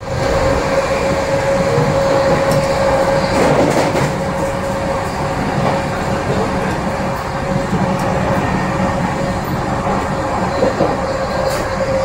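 Sealdah–New Delhi Duronto Express running at speed on the rails, a loud, steady rumble with continuous wheel-on-track noise and a sustained whine, close and unbroken for the whole stretch, no voices.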